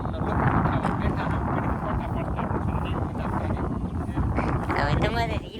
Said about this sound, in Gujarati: ઠંડો ઠંડો પવન છે